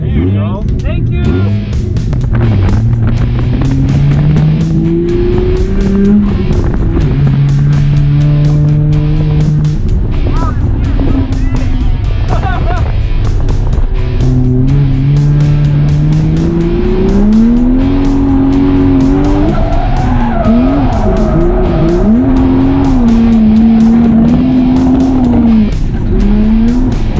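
A Nissan Skyline's engine revs and rises in pitch with squealing tires, loud and continuous throughout, while people talk over it.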